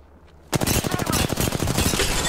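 Rapid automatic gunfire in the Apex Legends video game, bursting in abruptly after a quiet moment and continuing as a dense, loud rattle of shots with no talk over it.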